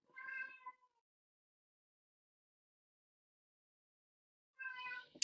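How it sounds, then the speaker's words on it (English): A cat meows twice, once at the start and again near the end, with silence between the two calls. "here you can hear my cat in the background"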